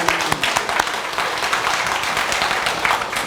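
A church congregation applauding together at a 39th anniversary and pastor installation service, a dense sustained burst of clapping from many hands that fills the room evenly throughout.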